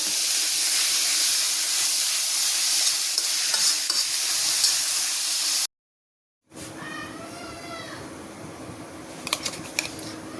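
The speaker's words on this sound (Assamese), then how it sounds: "এতিয়া কোমোৰাখিনি মই ভালকৈ ভাজি ল'ম ইয়াতে।" Soaked pumpkin pieces stir-fried in a karahi over a gas flame give a loud, continuous close sizzle that breaks off briefly, then returns softer with a faint voice and scraping.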